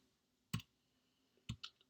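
Calculator keys are pressed during a precalculus problem, giving two or three sharp, quiet clicks spaced about a second apart in an otherwise silent room.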